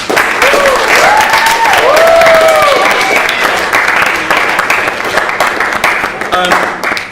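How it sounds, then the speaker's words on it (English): A crowd applauds students at a certificate presentation, broad clapping that swells early and tapers off, with voices, whoops and a few brief cheers rising above it. "give them a big, big round of applause"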